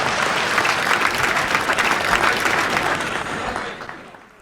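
An audience claps together at an Urdu mushaira poetry gathering, a full, sustained round of applause that holds steady and then fades away toward the end.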